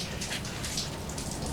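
Melting snow drips off the top of a carport, giving a steady patter like light rain in the background, with a continuous hiss of dense droplets and no voices.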